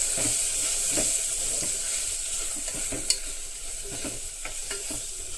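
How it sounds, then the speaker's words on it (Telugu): Curry with fresh coriander and a spoonful of coconut stirred in a sizzling pan, a spoon scraping in irregular strokes over constant close frying hiss, with one sharp knock partway through. "కొంచెం కొత్తిమీర కొంచెం ఒక స్పూను కొబ్బరి వేసేసుకుని ఇలా బాగా కలిపేస్తుంది"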